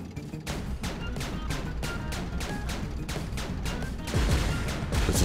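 Rapid bursts of gunfire from a tank bot in Kirby's Epic Yarn repeat in a quick, regular rhythm, loud and dense, with a heavier blast near the end.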